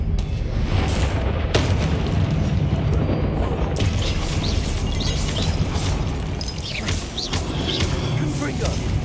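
Confringo blasting spell explosions in Hogwarts Legacy: loud, booming blasts and crashes repeat over a dense, continuous battle din, with a spoken voice now and then.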